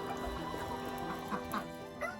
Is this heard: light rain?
no